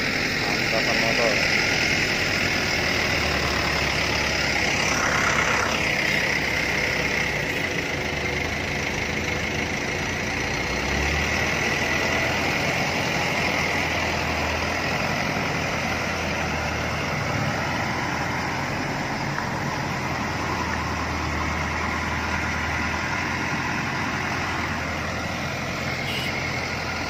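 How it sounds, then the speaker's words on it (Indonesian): A group of motorcycle engines idles together at an outdoor gathering of a combined enforcement unit, a continuous dense rumble throughout with people talking over it. "Angkatan motor."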